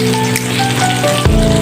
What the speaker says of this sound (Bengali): শাকগুলো ধুয়ে ভাজিটা বসিয়ে দিব